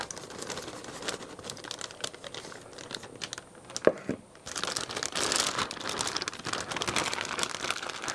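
Plastic zip bag crinkling and rustling close up as raw shrimp are dumped inside, a steady crackle with a brief thump midway and a louder, denser burst of crumpling toward the end.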